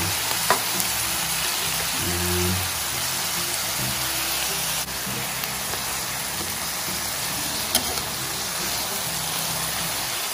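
Mixed vegetables with squash simmering in coconut milk sizzle and bubble steadily while being stirred, a soft continuous frying hiss with occasional light scraping clinks of the utensil.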